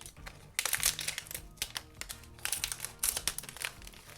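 Wafer card blind-bag packs are cut and torn open up close, a run of sharp crinkling foil wrapper bursts and snips in uneven clusters with short pauses between.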